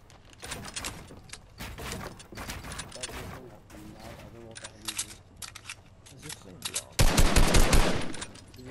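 Pistol fire in a video game pops in quick repeated shots with mechanical clicks between bursts, ending in a loud, sustained barrage of rapid fire near the close.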